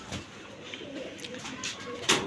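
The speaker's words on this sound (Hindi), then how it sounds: "ये उड़े हुए कबूतर हैं ये वाले।" Pigeons coo softly near at hand in a loft, low rounded calls repeating over a quiet background, ending with a brief sharper burst of noise.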